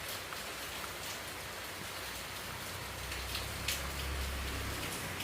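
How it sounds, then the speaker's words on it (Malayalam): Heavy rain falling on a morning walk, a steady dense hiss of drops on surfaces throughout with no voices, swelling slightly louder with a low rumble near the end. "രാവിലെ എണീറ്റപ്പം മുതൽ ഭയങ്കര മഴ."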